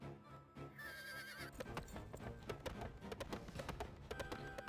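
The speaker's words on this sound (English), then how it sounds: "She got back on her horse and rode lightly down to the main road" A horse in the Suikogaiden video game whinnies, then rides away with rhythmic clip-clop hoofbeats at a steady canter over soft background music, the hooves fairly close and clear.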